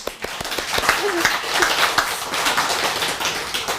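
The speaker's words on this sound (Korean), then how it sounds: "박수." Audience clapping at a talk, a burst of applause with sharp individual claps standing out over a busy crowd wash, lasting a few seconds at steady volume.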